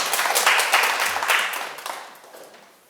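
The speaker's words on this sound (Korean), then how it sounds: "네, 큰 박수 부탁드립니다." Audience applause at a Buddha's Birthday religious lecture, a dense burst of clapping that swells early and then tapers away over a few seconds, with no talking over it.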